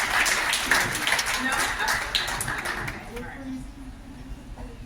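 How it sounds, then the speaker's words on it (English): Audience clapping at a poetry open mic at Busboys and Poets, a dense crowd of claps blended with chatter and voices that fades after about three seconds. "Start clapping, start clapping, start clapping, start."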